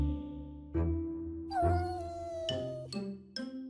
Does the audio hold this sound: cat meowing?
yes